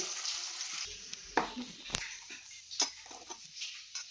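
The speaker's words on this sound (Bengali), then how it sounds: "একটা ডিপ ইলিশ ভাজা আর তেল নাও চলো" Hilsa fish deep frying in oil, a soft continuous sizzle broken by a few sharp pops and utensil clinks, close and moderately quiet, with no talk.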